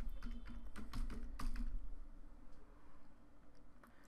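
Code being typed on a computer keyboard, a run of quick, close key clicks in irregular bursts that fade into quieter scattered taps.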